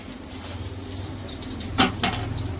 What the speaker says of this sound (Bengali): এখানে চলছে মাছ ভাজা